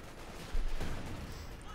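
Gunfire and rocket artillery rumble in a Company of Heroes 2 battle, a dull booming thump with low crackling shots behind it.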